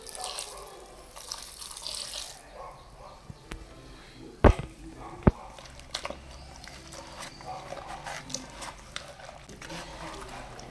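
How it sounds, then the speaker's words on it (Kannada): Water is poured in while hog plum pickle is made, a brief splashing pour at the start followed by scattered clinks and knocks of utensils, with a voice talking over it. "ನೀರು ಸೇರಿಸ್ತೀನಿ."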